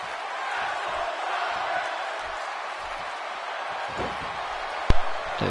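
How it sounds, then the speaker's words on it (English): A crowd cheers for Mark Henry in the wrestling video game WWE 2K18 as a steady arena roar, with a sharp slam-like thud near the end. "The crowd chanting for Mark Henry now"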